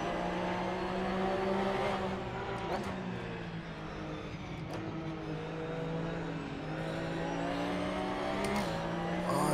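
A Porsche GT3 Cup race car engine drones and revs steadily in the racing game Assetto Corsa, a sustained close whine with brief shifts in pitch and no talking.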